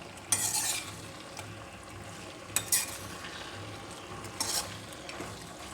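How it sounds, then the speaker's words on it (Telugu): A spoon stirs food in a sizzling pan, making a few sharp metallic scrapes and clinks over a quiet, steady frying hiss, close up with no voices. "తర్వాత ఇలా కలుపుకోవాలి."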